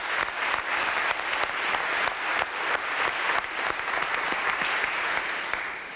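Sustained audience applause at a police division graduation ceremony, dense and steady clapping from a large crowd for about six seconds without a break.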